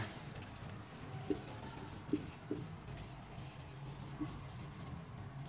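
Chalk or marker writing on a classroom board during a lecture on molecular weight, faint scratchy strokes with a few soft taps, heard close and alone over a quiet room.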